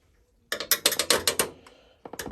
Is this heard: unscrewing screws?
yes